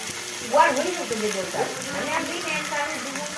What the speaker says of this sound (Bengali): খামালোগুলো হালকা করে ভাজা হয়ে গেছে তেল দিয়ে আর এটাতে অল্প পরিমাণে নুন অল্প পরিমাণে চিনি অল্প পরিমাণে হলুদ